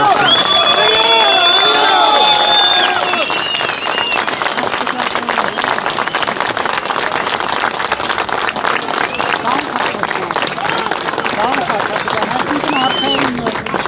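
A crowd gathered outside a campaign headquarters after an election win bursts into loud, sustained applause and cheering, with dense clapping and shouts continuing throughout.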